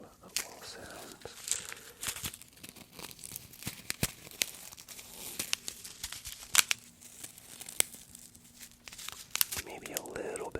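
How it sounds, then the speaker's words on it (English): A packet of little silica balls crinkles and rattles softly up close, an ASMR trigger made of scattered quiet crackles and ticks spread through a hushed recording. "just to get the little silica balls, the silica ball sounds"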